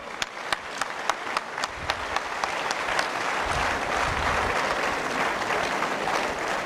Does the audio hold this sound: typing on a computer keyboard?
no